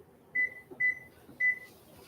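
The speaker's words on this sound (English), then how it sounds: "Timer." A kitchen oven timer goes off while snickerdoodle cookies bake, giving three short, clear electronic beeps spaced about half a second apart against a quiet room.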